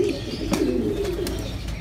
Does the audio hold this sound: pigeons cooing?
yes